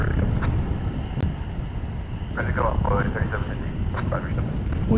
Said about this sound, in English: We do now have an aircraft.